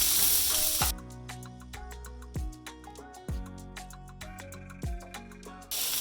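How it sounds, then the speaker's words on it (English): Salmon pieces sear in a hot pan, a steady close sizzle with sharp crackling bursts as pieces shift and turn, no voices over it. "this is my second batch searing away"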